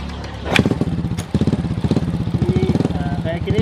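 A motorcycle engine kicked to life with the kick starter catches and settles into a rapid, loud, close-up idle that thumps in a steady uneven rhythm, with a voice speaking over it.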